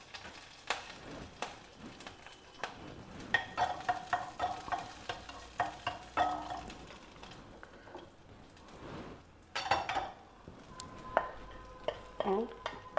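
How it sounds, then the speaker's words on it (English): Mustard seeds and a chopped green chilli in a teaspoon of hot oil, crackling and sizzling in a small pan with sharp popping bursts and spoon clicks, fairly quiet and close. "Heat a teaspoon of oil, add some mustard seeds,"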